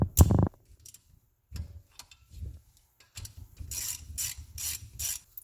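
Oil line bolts being removed from a Raptor 660 ATV engine with a ratchet, a sharp clank followed by scattered quiet clicks, then a run of rhythmic ratcheting strokes close by.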